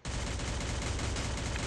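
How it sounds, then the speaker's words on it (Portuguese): Rapid gunfire in the Free Fire video game, a dense continuous burst of shots that stays loud for under two seconds with no talk over it. "eu tô tomando tiro, eu não tô."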